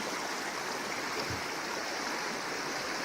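A creek flows steadily beneath a bridge on the Manistee River Trail in spring, its continuous broadband rush close and even throughout, with no voices.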